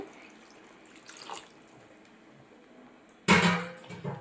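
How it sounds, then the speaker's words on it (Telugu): Water poured into a pan of brinjal and raw prawn curry lands as one loud, close splash near the end, after several seconds of quiet kitchen background. "ఇప్పుడైతే వాటర్ వేసుకుందామండి"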